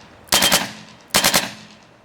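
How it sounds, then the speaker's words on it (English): A RAP4 replica rifle fitted with an electronic trigger fires two rapid three-shot bursts, each a loud, sharp triple crack, separated by a short pause. "By a touch of a single trigger, you're going to be firing 3 shots at a time."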